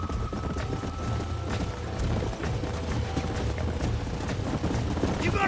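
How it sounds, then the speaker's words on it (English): Horses in the video game Red Dead Redemption clatter along in a steady, dense run of hoofbeats, with occasional snorts and a faint whinny, loud and continuous under game ambience. "There's the horses!"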